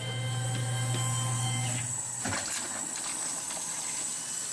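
A CNC mill with a finishing end mill makes a profile pass in a knifemaking shop while a shop vacuum runs. The result is a steady, loud hiss and whine with faint tonal hum, and no talk.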